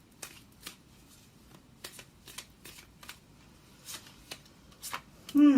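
Tarot cards being shuffled by hand during a reading, a run of quick riffling flutters in short repeated bursts, close and crisp, with a brief voice breaking in at the very end.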